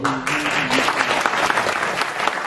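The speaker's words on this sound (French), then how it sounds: "vous pouvez vous applaudir parce que c'est un travail réalisé" Applause from an audience at a speech event, a dense steady wash of clapping that fills the clip, with a brief tonal voice-like hum at the start beneath it.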